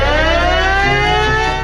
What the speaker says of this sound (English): When the sirens began blaring at the Russian Black Sea Fleet Command Center in Sevastopol